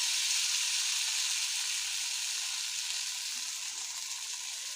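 Ginger garlic paste frying in hot oil for chicken biryani, a steady close sizzle with a bright hiss that fades slightly over a few seconds, with no talking.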